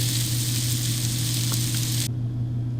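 Meat sears in a hot pan, giving a steady, close, loud sizzle with a constant hiss over a low hum; the bright frying hiss cuts out abruptly near the end, leaving only the hum.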